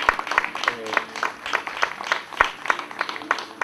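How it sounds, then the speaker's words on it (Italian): Audience applause at an Italian event, a few seconds of scattered, rhythmic hand claps from a modest crowd, fairly close, with some voices underneath. "C'è un applauso anche a Gregorio."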